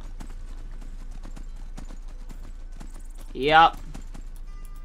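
Horse hooves clip-clop in a steady walking rhythm in the video game Skyrim, with a short spoken word partway through.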